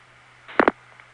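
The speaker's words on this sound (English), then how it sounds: "That's the sound of Youngstown, Ohio dumping us into a trunk to Canton." A brief burst of telephone trunk signalling as a 1975 Youngstown, Ohio call is dumped into a trunk to Canton, Ohio: a short double tone chirp over a faint line hum.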